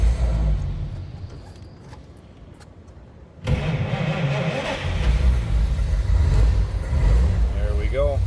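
A 1929 Chevrolet with a 6-volt system and a push-button starter under the dash turns over and catches, settling into a steady, loud idle with faint sounds in the quieter moments before it starts.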